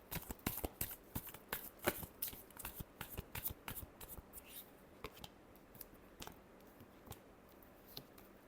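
Tarot cards are shuffled by hand at close range in a quick run of soft, crisp riffles and taps, some faster and some more spaced out, with no voice over them.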